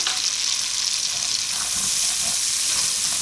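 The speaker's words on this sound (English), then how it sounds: "we're just going to cook the onions down just over like a medium heat" Onions cooking down in a pan over medium heat with salt added, giving a steady, even sizzle and hiss that holds throughout, close and fairly loud with no talking.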